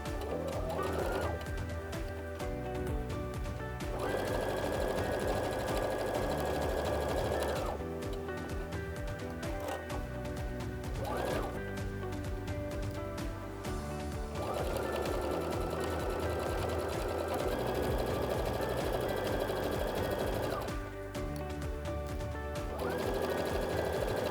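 A sewing machine runs steadily, stitching along a half apron tie made from a towel, with a continuous close motor hum and needle rattle broken by brief pauses and restarts, including short backstitching runs.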